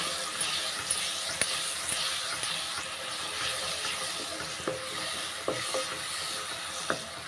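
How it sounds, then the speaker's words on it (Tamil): Banana pieces sautéing in ghee in a pan for a sweet: steady soft sizzling hiss with occasional sharp clicks and taps from stirring, moderately close and without talk. "நெய்யிலே நல்லா அந்த வாழைப்பழத்தை வந்து வதக்கி எடுத்துக்கலாம்"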